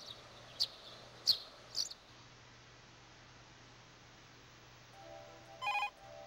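A telephone rings in the Pia Carrot 2 video game: three short, bright electronic chirps come first, then a brief, louder burst of ringing tones after a quiet gap.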